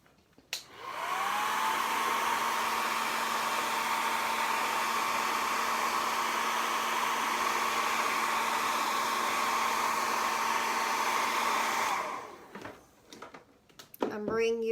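A hair dryer roars at a steady, loud pitch for about eleven seconds while drying chalk paint, then cuts off, leaving faint handling noises.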